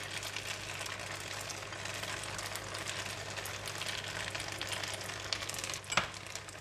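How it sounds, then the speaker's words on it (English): Beansprouts fry with kuey teow, tofu and dried prawns in a hot pan, a loud continuous close sizzle with steady crackle and one brief sharper clank near the end. "And now I'm going to put in the beansprout."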